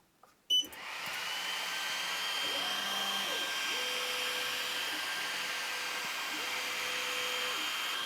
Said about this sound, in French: je vais demander à la machine de faire le contour de ce qui va être gravé et découpé